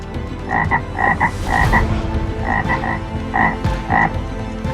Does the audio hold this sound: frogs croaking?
yes